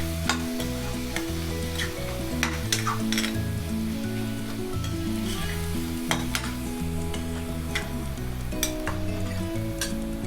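A spatula scrapes and stirs through a frying pan of chicken filling for lasagna after salt goes in, the food sizzling throughout while music plays underneath.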